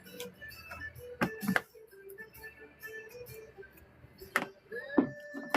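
A sewing machine bobbin that may need replacing makes intermittent mechanical clatter and ticking: a couple of short bursts of rattling stitches separated by quieter whirring stretches, heard close up without voices.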